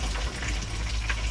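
Leaves frying in a pan of plentiful cooking oil, giving a steady, close bubbling sizzle with faint crackles throughout, no voices over it.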